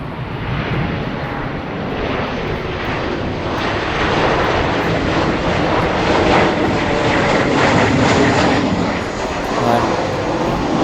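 A Qantas passenger jet roars nearby, a loud broad rumbling engine wash with wind buffeting, while people talk excitedly over it.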